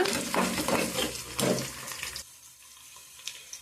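Garlic, cumin and onion fry in a pan for tomato chutney, giving a loud, close sizzle and hiss for about two seconds that then drops sharply to a quieter, faint crackle.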